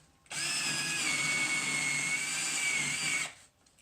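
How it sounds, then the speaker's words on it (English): A power drill with an auger bit whines steadily for about three seconds at high pitch while boring through wood, close and loud, then cuts off abruptly into quiet. "Sometimes we need to take the drill out a little bit, shake out the sawdust"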